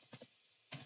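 Computer keyboard typing, a couple of quick key taps, then a short pause and one more brief burst of clicks, quiet and close with no voices.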